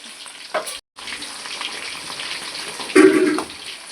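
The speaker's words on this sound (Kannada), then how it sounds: "ಅಕ್ಕನ ಮೀನು ಫ್ರೈ ರೆಡಿ ಆವೊಂದುಂಡು" Fish frying in a pan, a close hissing sizzle with a brief gap and a louder bubbling burst near the end.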